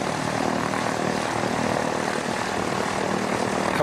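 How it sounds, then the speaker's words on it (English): An ATR turboprop arriving at Christchurch Airport from Tauranga makes a steady, broad engine drone with a propeller hum that holds at an even, fairly loud level throughout, with no talking. "our next arrival will be the ATR coming in from Tauranga"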